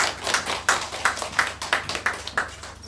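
A church congregation claps in a steady, even rhythm, each clap a crisp burst repeating about three times a second, moderately loud and free of talk.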